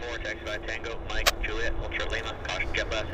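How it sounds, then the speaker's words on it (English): A Dash 8 Q400 turboprop airliner landing at Vancouver airport, its engine drone and a steady whine sitting low beneath continuous talk from nearby voices. "Got a Dash 8 landing here, Q400 I should say."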